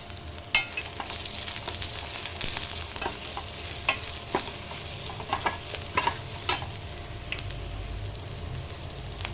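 Onions frying in a pan for a side dish to masala dosa, a steady close sizzle broken by frequent sharp scrapes and clicks of a spatula stirring.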